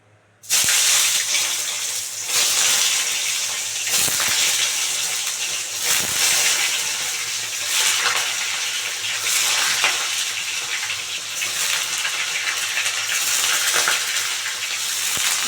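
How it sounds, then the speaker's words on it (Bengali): Paneer pieces dropped into hot white oil in a wok, a loud continuous sizzle with bursts as each piece goes in, close and steady with no talk. "তেল ভালো করে গরম হয়ে গেছে, এবার পনিরগুলো দিয়ে দেবো।"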